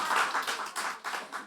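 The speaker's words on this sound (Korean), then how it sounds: "큰 박수." A short burst of applause from a church congregation, many hands clapping together briefly at moderate loudness, then fading.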